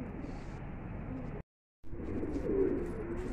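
Pigeons coo softly at midday as a flock is let out, a low murmuring with faint rustle around it, cut by a brief silent gap.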